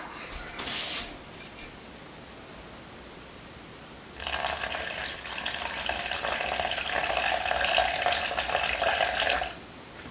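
A kitchen tap runs warm water for sourdough bread dough, a brief splash followed by a steady, hissing stream pouring for several seconds before cutting off.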